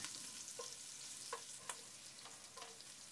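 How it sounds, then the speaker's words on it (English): Crushed ginger and green chilies frying in oil in a pot, a faint quiet sizzle with a few light clinks of a stirring spoon, close and without speech. "Stir them for 1/2 minute"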